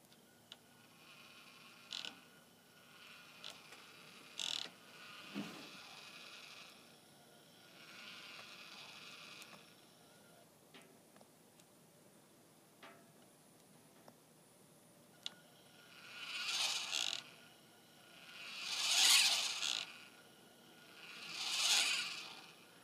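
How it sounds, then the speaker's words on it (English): A Losmandy G11 telescope mount's declination motor makes a grunting whir as it starts up or slows down. Quieter bursts come first, then three louder, bleat-like groans near the end, with no one talking. "It's that grunt sound that's coming off of the mount as you start up or slow down."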